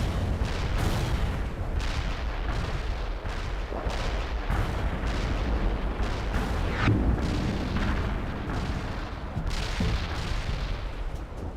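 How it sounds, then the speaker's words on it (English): Artillery barrage in a World in Conflict battle: heavy, repeated explosions and booming impacts pound continuously for the whole stretch, loud and close, with dense rumbling crashes overlapping one another and no voices. "Artillery barrage turned the target area into dust."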